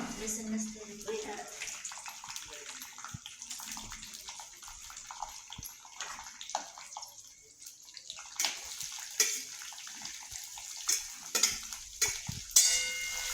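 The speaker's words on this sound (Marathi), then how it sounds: "तर आता शांगदाणे चरचर करायला लागले" Peanuts crackle in hot oil in a kadhai in a home kitchen, giving a steady hiss with scattered small pops and clicks close by, while voices talk over parts of it.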